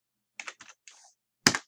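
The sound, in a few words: typing install command on computer keyboard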